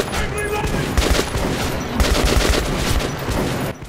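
Dense, close rifle gunfire from the game Metro 2033 Redux crackles in rapid bursts of sharp shots, loud and continuous with brief gaps, ending in a sudden drop.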